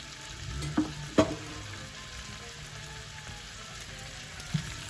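Pepper shrimp fry in a pan with a soft, steady sizzle, and a few distinct knocks and clatters come from the pan being tossed, all fairly close with no talking.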